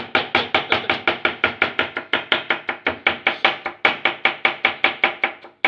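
A large knife chops cucumber on a board in rapid, even strokes, roughly four sharp knocks per second, close and crisp, continuing steadily for several seconds with no talk.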